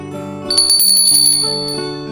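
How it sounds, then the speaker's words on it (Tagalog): A bicycle bell rings loudly and close, a quick run of bright metallic trills that fade out over about two seconds, with no voices. "Kampanilya ito."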